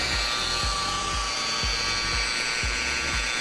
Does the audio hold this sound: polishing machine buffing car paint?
yes